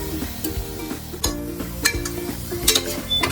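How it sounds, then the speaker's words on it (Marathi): Homemade masala for mutton fries in oil while a spatula stirs it continuously, giving close scraping strokes against the pan over a soft sizzle, with no one speaking. "फक्त मसाला खाली लागू द्यायचा नाहीये, त्याला कंटिन्यू परतत राहायचं"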